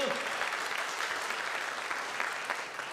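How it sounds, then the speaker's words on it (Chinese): A church congregation claps together in praise, a dense, fairly faint wash of many hands sustained throughout, with a voice briefly heard at the start. "那我们拍手赞美我们的神"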